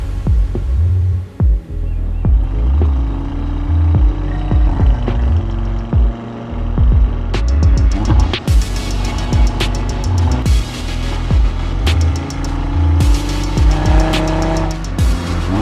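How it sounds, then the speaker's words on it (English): An Audi RS3's five-cylinder engine roars and revs through corners on a tree-lined road, rising and falling in pitch with sharp gear-change bursts and a throaty exhaust note echoing back from the trees. "The sound of the 5-cylinder engine roars through these bends, echoing back from the trees."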